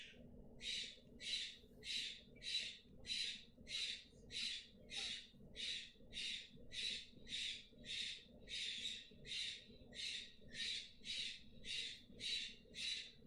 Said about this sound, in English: They're pretty loud. The thing of having conures and parrots.